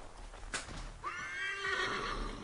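A horse in the video game Assassin's Creed whinnies loudly with a long, shaky neigh, preceded by a brief snort-like burst and soft background noise.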